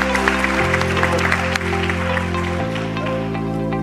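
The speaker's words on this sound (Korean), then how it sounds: "큰 박수 보내시기 바랍니다." Audience applause at a panel session of an international port cooperation conference: a steady, dense wash of clapping that fills the whole stretch, with a low sustained tone from the hall running underneath.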